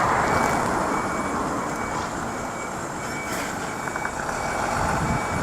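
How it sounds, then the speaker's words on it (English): A tilt tray tow truck on Olliviers Road rumbles steadily nearby, its broad engine and road noise continuous throughout with faint intermittent beeps, no talking. "It's a nice little truck actually if you are doing this sort of thing for a job. Tilt tray deck."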